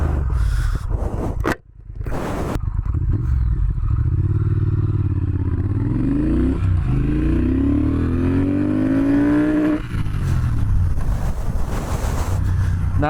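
A Triumph Speed Twin motorcycle accelerates hard, its engine note climbing through rising pitches and gear changes, heavily buried under loud, constant wind roar from riding.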